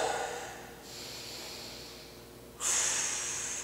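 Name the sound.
deep belly breaths during a shoulder stretch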